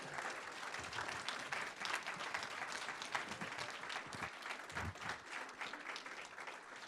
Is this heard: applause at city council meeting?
yes